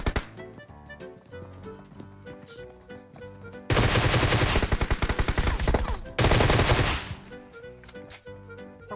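Gunfire in PUBG Mobile on Erangel: two loud, rapid automatic bursts ring out over steady background music, with a brief break between them.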